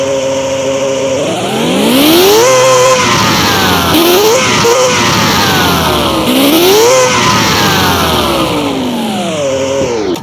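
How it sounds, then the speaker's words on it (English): A high-revving car engine in the Car Mechanic Simulator 2021 video game, loud and close, climbs sharply through the revs, falls back and surges again several times with an exotic, screaming tone, with no voices over it. "this engine literally sounds like it's made for this car. High revving, exotic sound."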